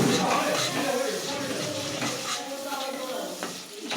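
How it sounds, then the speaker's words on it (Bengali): A spice paste with sour yogurt sizzles and is stirred in a pan for a mixed vegetable curry, a constant close frying hiss with faint spoon scrapes throughout. "আর কিছুটা টক দই, 2 চামচ মতো টক দই দিয়ে এটাকে ভালো করে কষিয়ে নিতে হবে।"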